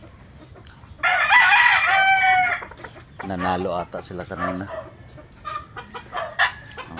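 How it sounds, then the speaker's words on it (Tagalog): A fighting rooster (gamecock) crows loudly and close by in one long drawn-out call, with softer clucks and someone talking afterward. "Ang manok. Ayun ang nilaban nila kanina."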